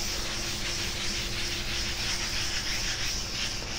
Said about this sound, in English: Then in circular motions, just kind of work the wax in.